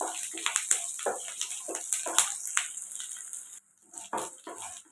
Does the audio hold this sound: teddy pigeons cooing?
no